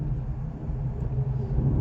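A car travelling a rough, broken rural road between Barshitakli and Pinjar gives a continuous low engine and tyre rumble from inside the cabin, with slight bumps in level and no talk.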